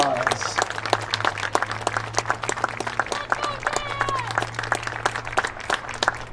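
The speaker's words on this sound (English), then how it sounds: "Let's give one more round of applause." Crowd at a college baseball doubleheader clapping after a ceremonial first pitch, with sharp close individual claps in a quick uneven rhythm, a steady low hum beneath, and some talking and whistles mixed in.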